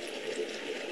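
Water rushes out in a steady, faint, continuous stream, a soft hiss and gurgle with no voices over it.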